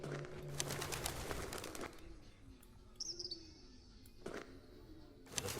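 Little bird in the Colossal Cave video game: soft chirps and a short fluttering of wings, with a brief whistling tweet and a few sharp clicks, quiet and sparse against a faint background.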